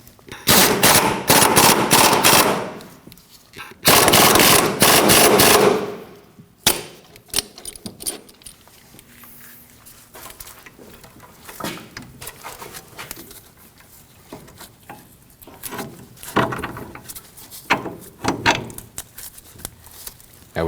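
Loud rapid ratcheting bursts from tightening bolts on the front suspension of a 2009-2014 Ford F-150, during a shock and spring assembly replacement; two sustained runs in the first seven seconds, then quieter scattered clicks and handling noises.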